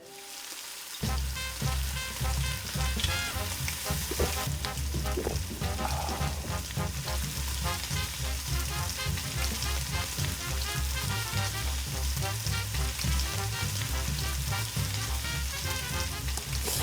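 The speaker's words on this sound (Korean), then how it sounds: "밥 하나만 예 하나 볶아 볼까요?" Rice is stir-fried in a dakgalbi pan in a restaurant, a loud, constant sizzle and crackle with busy scraping that runs unbroken after a brief quiet start.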